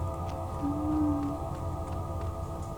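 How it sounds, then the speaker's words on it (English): Whale calls drift through an underwater scene in the video game Dreamfall: The Longest Journey, a single long tonal moan rising out of a steady humming ambient drone, moderately loud with faint clicks scattered above. "Am I hearing whale sounds?"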